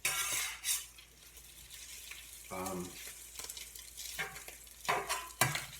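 Pulled pork and salmon frying together in a single pan, with a steady soft sizzle broken by scraping, stirring clinks of a utensil against the pan at irregular intervals, heard close but fairly quiet.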